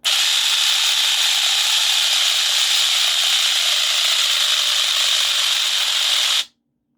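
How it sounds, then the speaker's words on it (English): DC servo motor running at fast jog while held in the hand, a loud, steady, buzzing whine with rough grinding texture that runs for several seconds and then cuts off abruptly into silence. "As you can see, the motor is very noisy, but it does actually do the job"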